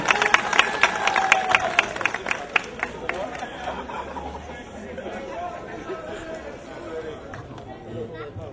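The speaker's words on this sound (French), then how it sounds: "Applaudissez Ivoire Foot Montréal." An audience at an evening ceremony for a Montreal Maracana football tournament applauds the Ivoire Foot Montréal team. Steady clapping at first gives way to a lively crowd murmur as the applause fades.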